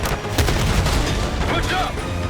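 A grenade blast amid gunfire in Call of Duty: Black Ops 6, with a loud boom landing among dense, rumbling bursts of shots and battle noise that continue throughout, while soldiers' shouted voices mix in.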